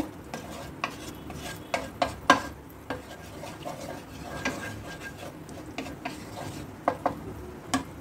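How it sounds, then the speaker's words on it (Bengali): Butter melting in a kadai for restaurant-style butter chicken, a soft steady sizzle under repeated sharp clinks and scrapes of a utensil stirring against the metal pan. "দিয়ে বাটারটা একটু ভালোভাবে মেল্ট করে নেব।"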